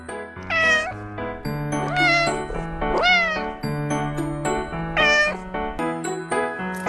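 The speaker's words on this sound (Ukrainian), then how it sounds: "Кіт" A cat meows several times in a row, loud and close, the calls rising and falling over a steady musical background.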